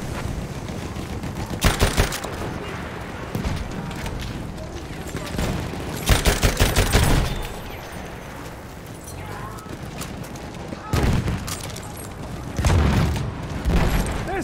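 Grenade blasts and rattling gunfire in the World War I shooter Battlefield 1, with several loud broadband bursts spaced across the stretch over a steady din of battle, and voices shouting in the background.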